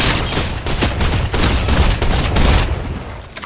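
Rapid bursts of gunfire in the video game Fortnite Wilds on PS5 rattle densely together, loud and close, with several sharp shot clusters overlapping across a few seconds.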